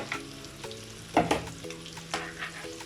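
Chickpeas and paneer tossed into a hot pan, sizzling steadily as they are stirred, with a louder burst of frying midway and repeated scraping strokes, close and loud with no voices.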